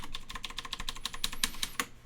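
Computer keyboard keys pressed in a quick, steady run of close, crisp clicks, about a dozen strokes, alone without speech.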